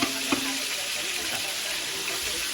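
Pansit guisado noodles frying in a pan, a steady close sizzle with light stirring noises and a few clinks, continuous and fairly loud.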